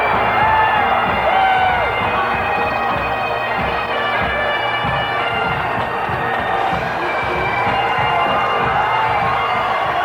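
Loud, continuous roar of a packed arena crowd cheering in the wrestling video game WCW 2K22, dense and sustained throughout with shouts and whoops mixed in.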